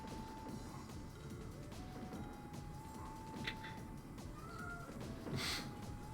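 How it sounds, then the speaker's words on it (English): A house cat called Sylvester meows indoors, a few short, moderately faint cries over a steady bed of electronic video-game music and tones. "He's been meowing a lot today."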